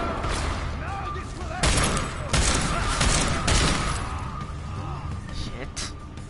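Gunfire bursts from Deus Ex: Mankind Divided, a loud crackling volley of rapid shots in the middle with sharper isolated cracks around it. A voice comes through between the shots.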